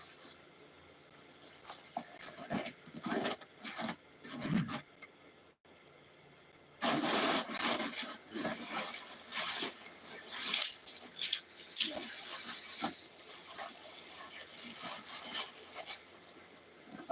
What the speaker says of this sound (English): dome tent I'm going to try to set up for an extra layer of insulation